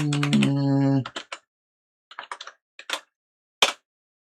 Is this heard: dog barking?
no